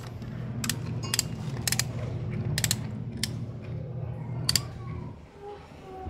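Ratcheting wrench tightening the nut on a motorcycle sprocket, heard as a series of sharp metallic clicks in bursts over a steady low mechanical hum, close by with no talking.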